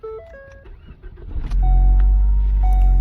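A 2016 Ford Focus is started with the key: electronic chimes and beeps ring out first, then a brief crank catches and the engine settles into a loud, steady idle close by while another chime sounds.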